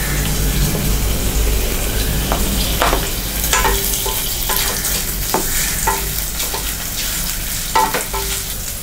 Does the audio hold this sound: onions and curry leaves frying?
yes